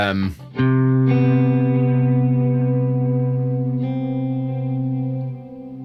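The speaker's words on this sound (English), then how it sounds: "with that James Bond chord, it features that major seventh" A single sustained electric guitar major seventh chord rings out after a quick strum, processed with chorus and echo, holding steady for several seconds before fading slightly.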